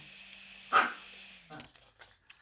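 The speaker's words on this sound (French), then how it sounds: "je suis vraiment désolée du bruit des chiens" Dogs bark nearby in a home: one loud sharp bark, then a scatter of fainter yips and barks from a distance over a low hum, along with some brief voice sounds.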